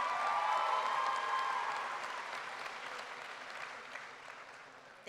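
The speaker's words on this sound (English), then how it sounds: "give them one more round of applause" An audience applauds graduating seniors at the Hudson's Bay High School 2017 graduation ceremony; the dense clapping starts loud and full, then slowly thins and fades over a few seconds.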